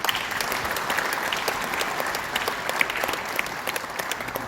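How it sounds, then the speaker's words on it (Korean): Audience applause for the Gangnam district mayor at a Kukkiwon ceremony, steady crowd clapping throughout, moderately loud with scattered sharper individual claps. "우리 강남 구청장님께 박수 한번 보내주시기 바랍니다"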